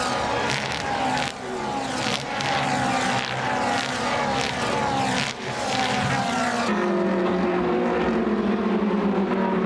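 Ferrari Challenge race cars on the opening lap of a 36-car grid thunder past, a loud continuous roar of high-revving engines with overlapping passes that shifts to a single steady drone near the end.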